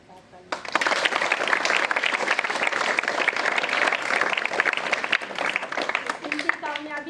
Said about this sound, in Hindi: इनके लिए भी एक बार जोरदार तालियां।